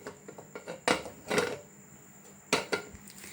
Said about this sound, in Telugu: మనం మూతని ఇలా పెడదాం.